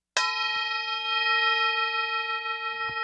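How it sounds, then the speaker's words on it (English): A single bright metallic strike rings out and sustains with a long, shimmering tone that slowly fades, with faint knocks underneath. "So in this small room, we have a prayer bowl."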